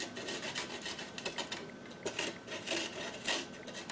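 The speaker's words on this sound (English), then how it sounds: "This is my grater." Fresh ginger root is rubbed against a grater in quick, repeated rasping strokes, close and fairly quiet, with no voices.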